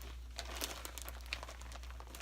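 Packaging is crinkled close by, making soft, irregular rustles and crackles over a low, steady hum.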